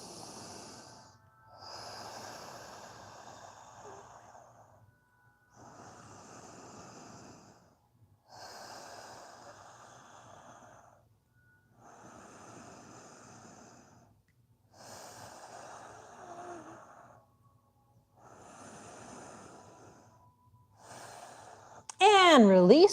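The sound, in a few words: breathing in and out through the nose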